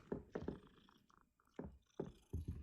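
A displeased cat in the Hogwarts Legacy video game gives several short, low grumbling vocal bursts separated by brief gaps, fairly close and moderately loud.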